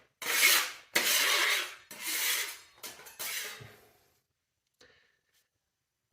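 Rasping scrapes against an old Italian house wall without a damp-proof course, several long, loud, close strokes with short gaps, trailing into quieter shorter scrapes and then near silence.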